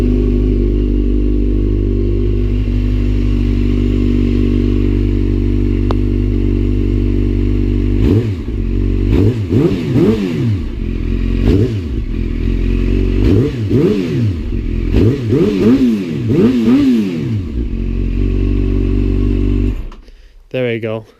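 Yamaha FZ8 motorcycle engine idling steadily at close range, then blipped through a series of sharp throttle revs that rise and fall repeatedly before the engine cuts off.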